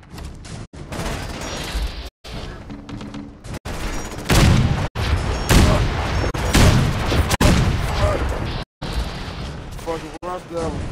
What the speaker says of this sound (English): Ooh, look at the explosion.